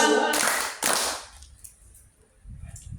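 Audience at a religious gathering clapping in unison on cue, two loud collective claps close together near the start, followed by quieter room noise and low murmuring.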